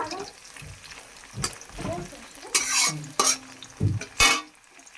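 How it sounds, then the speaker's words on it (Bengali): Onions frying with cumin seeds in a pan, a soft sizzle with brief bursts of louder crackle and stirring scrapes, close by, with some speech mixed in. "এখন দেখো পেঁয়াজ ভাজছি জিরে ফোড়ন দিয়ে।"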